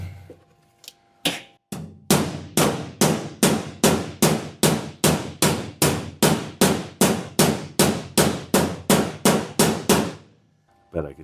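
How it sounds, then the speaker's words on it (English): A hammer beats on firewall sheet metal of a 1937 Lincoln Zephyr, close and loud, with a few uneven taps followed by a long steady run of about twenty ringing metallic blows at an even rhythm. "All right, we get this hammer. I'll try to just break this in."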